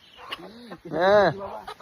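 A nearby free-range village hen gives a few short clucks followed by a louder drawn-out squawk, close and clear with little else around.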